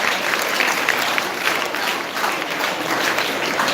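Audience applause at a school's 75th Independence Day inter-school competition valedictory, a dense, even wash of clapping that holds steady throughout.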